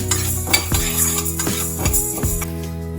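Mustard seeds frying in a hot pan for a tomato chili chutney, with a steady sizzle and repeated scrapes and clinks of a spoon stirring, close up.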